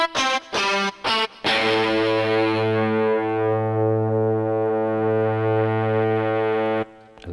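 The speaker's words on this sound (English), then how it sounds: "electric guitar type samples in there" Synthesized electric guitar patch from the UVI Emulation II sample library: a few short choppy stabs, then one long sustained distorted note ringing steadily for several seconds before cutting off, loud and alone.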